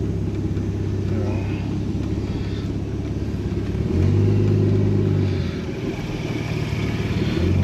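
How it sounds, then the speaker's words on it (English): Holden VL car driving with no exhaust fitted, its loud, raw engine drone steady and close throughout, swelling into a heavier rev for a second or so midway before settling back; people talk faintly over it. "first drive in the VL's got no exhaust on it"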